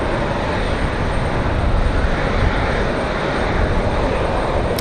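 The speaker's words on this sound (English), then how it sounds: "we got another one landing over here. It's a small one, this one not on radar." A small airplane landing at Raleigh-Durham International Airport on a windy day, its engine a steady, loud, broadband roar throughout with wind noise and no talking.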